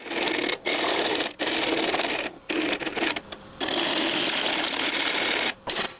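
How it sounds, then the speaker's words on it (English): A can of compressed air blasts in long loud hissing bursts across a walnut hollowform, separated by brief gaps of silence, close up and alone. "And just because I like it, here's some more air duster"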